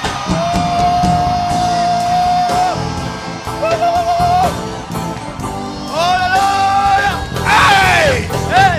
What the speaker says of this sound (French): Celui qui crie plus fort que son voisin reçoit le miracle.